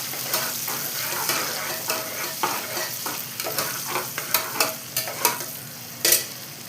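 Green chillies sautéing in hot oil for mutton biryani, a constant bright sizzle punctuated by a series of sharp scraping stirs that grow louder toward the end, close and without talk.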